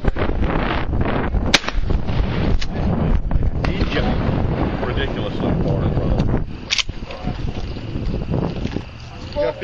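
Shotguns fire at skeet targets on a night range: a few sharp, loud reports over steady wind noise on the microphone, with people talking nearby.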